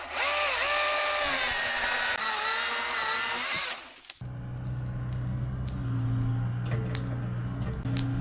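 A small engine on a yard clean-up job, choked to get it going, whines high and loud for about four seconds, then drops abruptly to a lower, rougher running idle with faint clicks.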